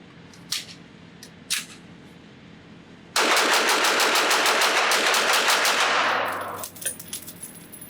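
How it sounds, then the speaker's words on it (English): Rapid fire from a Kel-Tec PMR-30 .22 Magnum pistol at an outdoor range, a loud unbroken burst of about fifteen quick shots lasting several seconds, preceded by two isolated cracks and followed by a few faint clicks. "So let's go back to the range with only 15 rounds and see how fast I can pull the trigger."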